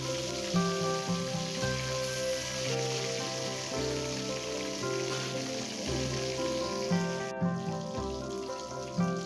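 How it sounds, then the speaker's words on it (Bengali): Pomfret fish frying golden brown in hot oil in a pan makes a continuous hiss and sizzle, set under steady background music. "একটু গোল্ডেন ব্রাউন করে ভেজে নেবো"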